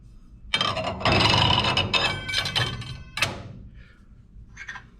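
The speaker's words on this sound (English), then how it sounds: "I'm just going to put on my 2 dado blades." Dado blades with forward-facing carbide teeth are slid onto a saw arbor, producing clanking metal thunks, scrapes and rattles in a dense close-up burst, then a few fainter clinks.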